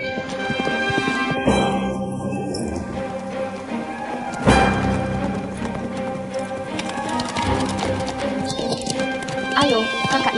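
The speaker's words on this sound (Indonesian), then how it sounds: "kita balapan kuda" Horses clip-clop at a steady gallop through the whole stretch in a friendly horse race, hoofbeats close and continuous, with voices and some background sound mixed in.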